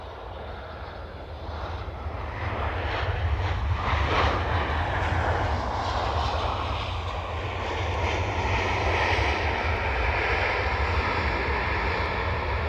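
A Ryanair airliner on approach at Dublin Airport gives a loud, sustained engine roar that swells and holds as it passes nearby. There is a low rumble underneath and no talk.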